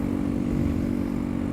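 Honda Grom motorcycle fitted with a Zoom exhaust, its engine droning at a steady, loud, high rev with a constant low buzz throughout and no talking.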